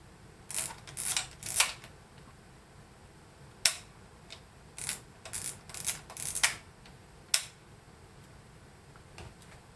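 A series of sharp mechanical shutter clicks from a Cosina CX-2 35mm compact film camera, some in quick pairs, spaced irregularly over a quiet background.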